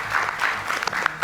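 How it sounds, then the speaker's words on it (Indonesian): Short burst of audience applause for Bung Adian in a television studio, full and lively clapping with a few sharper individual claps standing out. "kita berikan tepuk tangan, Bung Adian"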